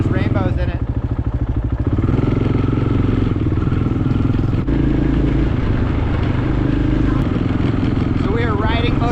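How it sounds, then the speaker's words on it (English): Motorcycles ride back to Red Mountain in Alaska, a close, loud engine drone with a rapid pulsing chug at first, then a steady buzzing roar with some rattle, and voices are heard briefly over the engines. "We are riding motorcycles back to Red Mountain."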